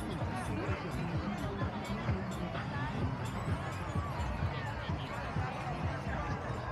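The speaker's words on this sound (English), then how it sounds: "it's getting more and more crowded" Dense crowd chatter fills a busy Coney Island beach in Brooklyn, New York City, a steady wash of overlapping voices with occasional sharper thuds and shouts, continuous and close all around.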